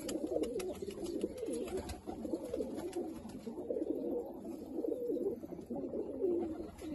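Several pigeons of a golden fancy breed coo softly and repeatedly nearby, low rolling calls overlapping in a steady murmur with faint chirps in the background.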